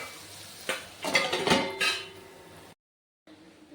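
A metal lid rattles and clanks onto a pan of potatoes set to steam, a short burst of clattering contacts followed by quiet and then a brief silence.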